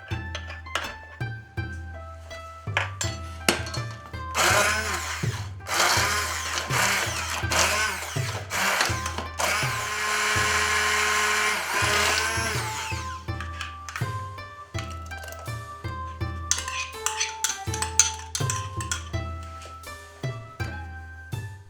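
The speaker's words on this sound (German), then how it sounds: "Zum Beispiel gekochte Erdbeeren, die wir mit Zucker versetzen und danach pürieren." A blender purees cooked strawberries mixed with sugar, with a sustained loud whirring run in the middle, framed by clinks and handling knocks before and after.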